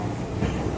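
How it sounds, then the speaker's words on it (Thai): A local train on the line to Sano station in Japan runs steadily, its broadband rolling rumble and rail noise continuous and fairly loud throughout, with no one talking. "มาแล้วครับผมรถไฟขบวนเดิมสายโลเคอลที่จะพาเราไปสถานีซาโนะกันนะครับ"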